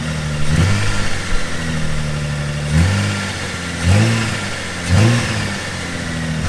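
Toyota Supra rally car engine idling with a rough, loping rumble, blipped in three short revs spaced about a second apart, close and loud with no talking.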